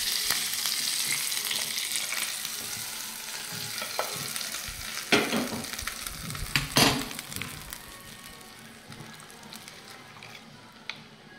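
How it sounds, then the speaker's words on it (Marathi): A hot tempering of asafoetida, curry leaves and coriander sizzles loudly as it is poured into chutney, with a steady frying crackle and a few sharp splashing bursts that fade toward the end. "आता हा तडका आपण चटणीमध्ये टाकूया।"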